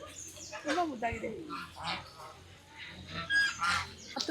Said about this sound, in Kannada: ಕೋಳಿ ಹತ್ರ ಇದ್ದೀವಿ ಬಾತುಕೋಳಿ ಬಿಳಿ ಬಿಳಿಗೆ ರೇಷ್ಮಕ್ಕನ ತಾನೇ ಇದೆ